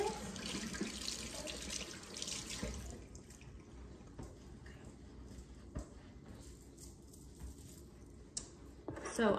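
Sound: water running from tap while washing hands

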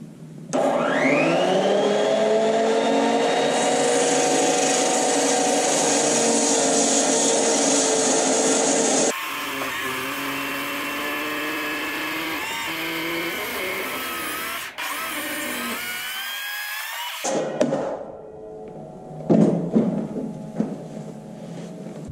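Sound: saw with 16 5/16 inch blade gang-cutting four 2x rafters

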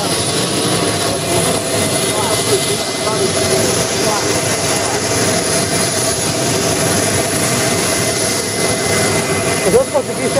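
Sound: jet airplane taking off at airport

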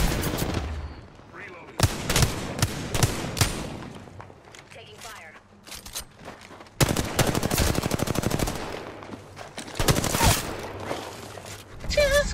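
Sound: gunfire in a video game

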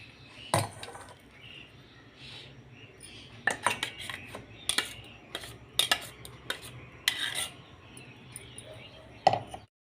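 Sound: transferring radish leaf paste into a vessel

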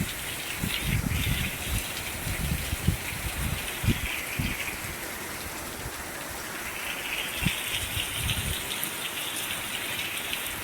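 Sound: heavy monsoon rain falling on a farm

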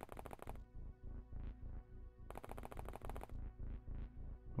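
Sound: gunfire from soldiers in the video game OpenXcom

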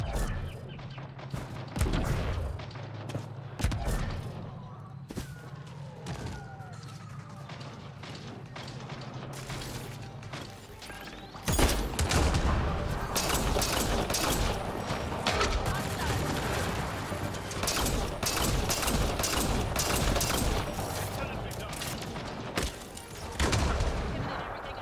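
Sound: gunshots in video game Mass Effect Andromeda

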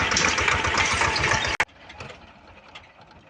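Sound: tractor engine running before stalling

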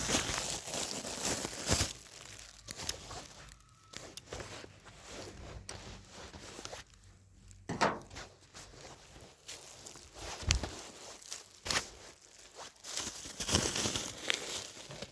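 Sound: cutting and handling plastic film

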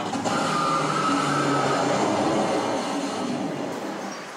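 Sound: hydraulic launch roller coaster train

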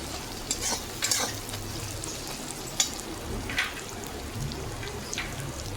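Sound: frying garlic paste with tomato and onion, stirring

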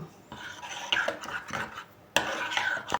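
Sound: stirring sauce in a bowl

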